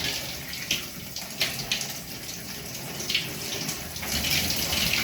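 A running shower gives a steady hiss of spraying water, close and continuous, with splashes that swell slightly toward the end.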